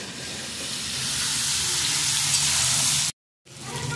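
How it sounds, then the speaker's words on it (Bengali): Vegetables, including eggplant and ridge gourd, sizzle and crackle loudly in hot oil, a continuous close-up frying hiss that cuts out briefly near the end and resumes. "সেই সবজিগুলো একটু আগে দিয়ে তেলে একটু ভাজা করে নিয়ে"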